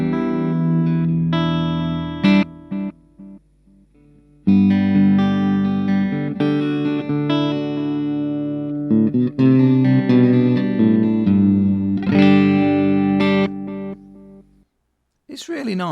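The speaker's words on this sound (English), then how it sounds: "let's do a little bit of finger picking." Finger-picked electric guitar plays through a Blackstar Debut 10E amp with tape delay, loud and close, with ringing notes and repeating echoes in phrases broken by short pauses.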